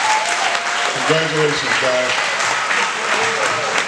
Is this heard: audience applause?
yes